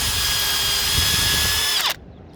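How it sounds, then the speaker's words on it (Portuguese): A power drill bores through wood to fix a Roman roof tile, whining loudly and steadily for nearly two seconds before winding down abruptly as it stops, leaving faint background noise. "Tem que se retirar a furadeira para não acumular cavaco e ele esquentar demais"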